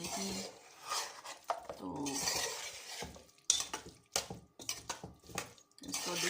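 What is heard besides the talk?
dishing out keema beans from a pot with a spoon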